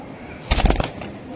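A Budapest pigeon gives one short, low coo, close by and brief, against a quiet background hum.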